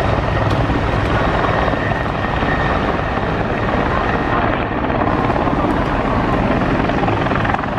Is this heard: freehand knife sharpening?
no